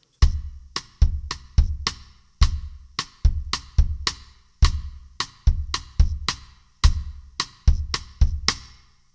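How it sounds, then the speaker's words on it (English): A punchy drum rhythm: bass drum hits on beat 1, the and of 2 and the and of 3, sharp and decaying, against steady quarter-note pulse beats, played close with no voices. "The bass drum plays on beat 1, the and of 2, and the and of 3."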